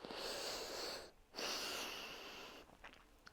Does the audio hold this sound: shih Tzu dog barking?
no